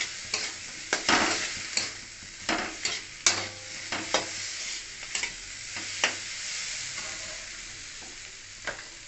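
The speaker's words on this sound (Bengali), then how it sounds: "মশলাটা কষানো হয়ে গেছে, এবারে আমি দিয়ে দিলাম সয়াবিনগুলো।" Soybean chunks stirred into sizzling spiced masala in a pan, a steady frying hiss broken by repeated scraping stirs of a spoon against the pan, close and moderately loud with no talking.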